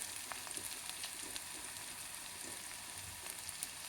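Keema or curry frying in a pan with salt just added, a steady close hiss and crackle of oil that runs without a break and has no talk over it.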